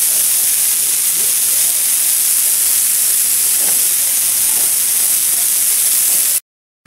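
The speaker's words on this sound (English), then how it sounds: "I'm going to hose it off" A garden hose sprays water onto a concrete surface with a loud, unbroken close-up hiss that holds steady for several seconds and then cuts off abruptly.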